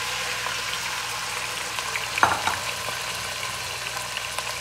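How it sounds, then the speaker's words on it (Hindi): Chicken fries in hot oil in a pan, giving a constant close sizzle with one brief clink of a utensil and faint crackles throughout, with no voices. "देखिए मैं अब इसके अंदर चिकन डाल दूँगी।"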